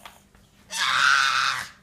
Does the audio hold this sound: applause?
no